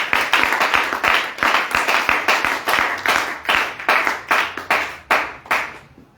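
A church congregation claps together in acclaim of Jesus, a steady, loud, rhythmic unison beat of many hands, roughly three claps per second, continuing for several seconds before thinning out at the end.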